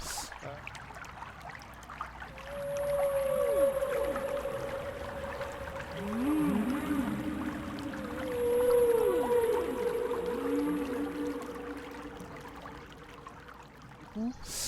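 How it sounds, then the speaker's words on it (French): Whale calls rise and fall in long, moaning tones, with several swooping cries layered over a low, watery background hiss, played as part of a park's sound installation in a forest. "se retrouver avec des sons de baleines dans une forêt"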